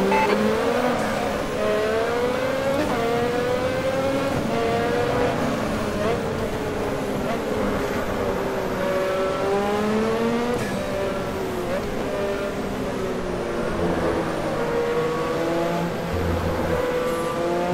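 Race car engine in the Automobilista racing game drones steadily throughout, with shifting revving tones, gear changes and tyre noise. It stays loud and continuous while a voice talks over it.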